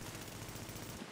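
Dense automatic gunfire from a PvP match in The Division, a continuous rattling burst of shots that fills the short clip before cutting off abruptly at the end.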